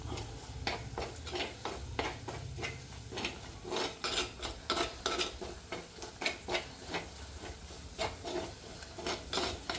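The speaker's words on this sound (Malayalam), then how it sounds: "മുളക് പൊടി, ഇത് നന്നായിട്ട് മൂപ്പിക്കണം." Chili powder frying in a pan while a utensil scrapes and stirs it, producing rapid, rhythmic rasping strokes over a low, steady sizzle, close and continuous with no voices.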